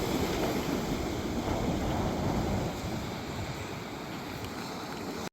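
High ocean surf on the Oregon coast roars in a continuous broadband wash, with wind buffeting the microphone. The sound is loud at first and eases slightly partway through, with no voices.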